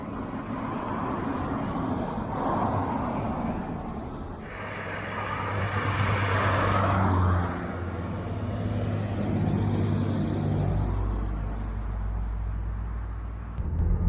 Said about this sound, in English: Now let's actually experience how this car drives.